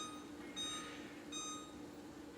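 Two short, faint electronic beeps from a kitchen timer being set while pasta rests, sounding alone over quiet room hum.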